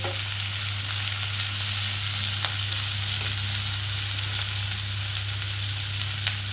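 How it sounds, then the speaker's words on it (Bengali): Catla fish stew frying in a pan with little oil, giving a steady, even sizzle with a low hum beneath it. Occasional faint clicks sound as it is stirred, and no one speaks. "মিনিট দুই তিন আরও আমি একটু নাড়াচাড়া করব"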